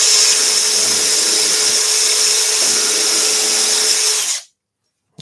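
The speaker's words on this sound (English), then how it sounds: "then we're going to go full speed on the drill" Power drill running flat out on a brass tube while turning a pen, a steady high-pitched whine that holds loud and constant for about four seconds, then cuts off abruptly into silence.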